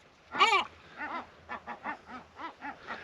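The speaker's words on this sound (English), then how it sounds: "It's a baby seagull. No wonder the mother's shouting at me." A seagull mother calls near a nest with a chick, giving one loud harsh squawk followed by a string of shorter, softer calls, close and with no talk.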